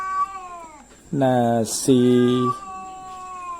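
Male cats caterwauling while fighting over a single female cat, drawn-out harmonic yowls rising and falling in overlapping wails, loud and close, with a brief spoken voice at the start.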